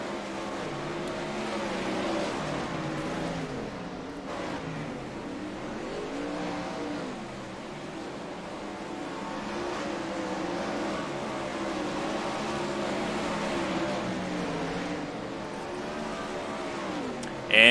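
Race cars circling a dirt oval at Kokomo in iRacing, a USAC eSports event: a steady, moderately loud engine drone with rising and falling pitch as cars sweep past, continuous throughout with no audible talk.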